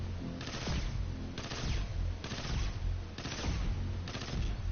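An exotic weapon in the video game Destiny 2 fires at a dreg, and the shots land as five heavy, evenly spaced bursts about a second apart. Each burst is loud and crunching over a constant low game rumble, with no voices.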